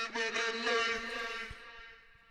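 Processed vocal with a Little Altar Boy formant-shifting plug-in, a short sustained sung phrase with a bright, altered vocal tone that fades out, close and alone.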